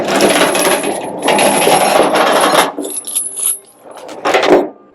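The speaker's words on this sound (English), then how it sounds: "let's chain it down and ride out" Metal chains clanking and rattling as a load is chained down on a truck, with loud, close bursts of jangling and short pauses between them.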